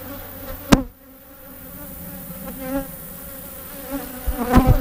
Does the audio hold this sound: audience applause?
no